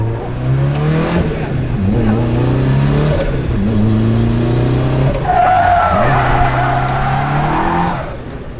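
A Nissan S13 launches hard off a race start, its engine revving loudly through rising gear pulls while the tyres squeal and skid, close and continuous throughout with a sharper high whine late on.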